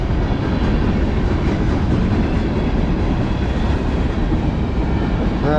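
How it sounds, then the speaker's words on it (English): A Norfolk Southern manifest freight train led by a Dash 9 locomotive rolls past with empty tank cars on a cold morning. Its loud, dense rumble and clatter of cars continue unbroken and close by. "This is a boring train."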